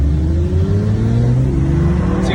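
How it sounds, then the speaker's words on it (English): A Toyota TRD Camry with a V6 races a bi-turbo Mercedes C63, both engines droning loud and close as they accelerate hard, with steadily climbing pitch and no speech over it. "TRD Camry winning the race."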